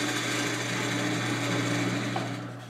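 Continuous droning lathe hum with a steady scraping chatter as a bowl gouge hollows walnut end grain, loud and close, easing slightly at the end.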